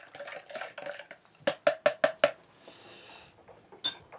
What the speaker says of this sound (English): Give that another mix, try and dissolve all that sugar.